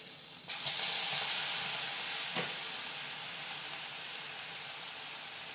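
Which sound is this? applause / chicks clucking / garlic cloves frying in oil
garlic cloves frying in oil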